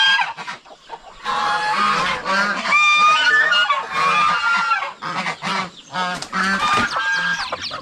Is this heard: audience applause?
no